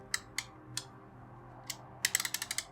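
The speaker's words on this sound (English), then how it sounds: "Just going to loosen back my saddle" A bicycle saddle post being loosened with a tool, giving a few sparse mechanical clicks followed by a quick run of close, ratchet-like ticks, near and fairly quiet.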